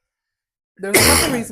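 A single sudden sneeze bursts out after a stretch of silence, loud and close, with a short breathy tail.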